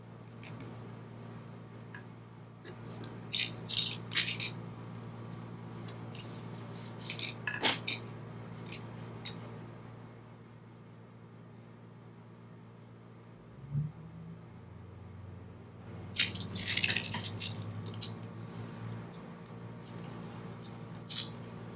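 Scissors snipping around a paper tag for a mixed media craft, a few quiet clustered crisp cuts and small handling clicks spread over a soft room background with no talking.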